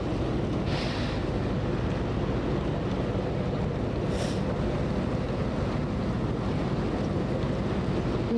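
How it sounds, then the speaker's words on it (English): Strong, steady wind roars across an open microphone during a powerful Southern California windstorm with brush fires, a continuous loud buffeting rush with a couple of sharper gusts and no talk. "You guys, the wind here is unbelievable."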